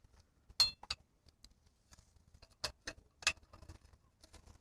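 Small metal bushings clink and tap while a 2002 Marzocchi Shiver 26-inch inverted mountain bike fork is assembled, giving a few crisp, scattered clicks close by in a quiet room.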